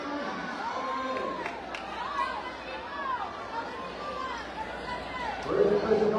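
Dense crowd chatter and scattered cheering fill an indoor court at an under-21 basketball game between Santiago City and Naguillan, steady and close throughout, with a louder swell of shouting near the end.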